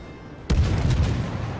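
Japanese destroyer Umikaze's main guns fire a volley in World of Warships: sudden loud booming blast after brief quiet, with a rumbling tail and overlapping reports.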